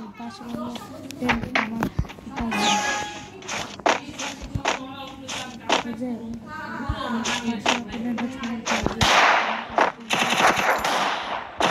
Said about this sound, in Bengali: এখন আমি ইউএমপি দিয়ে ওকে এমন একটা হেডশট মারবো